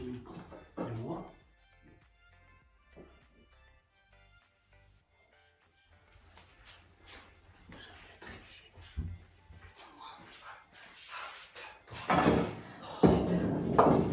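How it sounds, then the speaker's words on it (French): Dog barking indoors in fits, a few sharp barks early then louder bursts toward the end, with door bangs and household noise between. "le chien il n'arrête pas d'aboyer"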